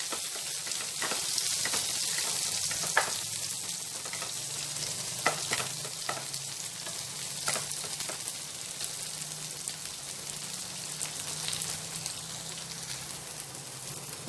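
Curry leaves and onions frying in oil make a steady, dense sizzle with occasional stirring clicks and scrapes, close up and continuous, with no talking.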